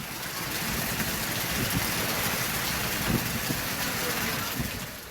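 Heavy rain driven by strong wind in Vellore district, Tamil Nadu, a dense steady hiss of downpour with gusty rumble underneath, continuous for the whole stretch.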